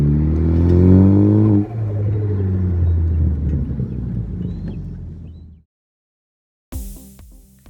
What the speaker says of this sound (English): I'm doing like an autocross style figure eight here, and man, they feel great. They feel great. And that turbo flutter never gets old.